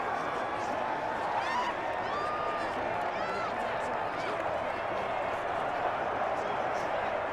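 Roaring stadium crowd at a Madden 21 NFL game, Detroit Lions versus Green Bay Packers, a dense continuous wash of cheering and shouting with scattered whistles, holding steady at moderate loudness throughout.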